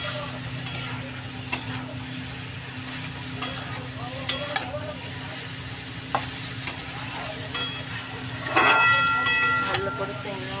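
Prawns sizzle in a pan over high gas for a spicy prawn curry with tomato and onion, a steady close frying hiss broken by sharp stirring scrapes and a louder burst near the end.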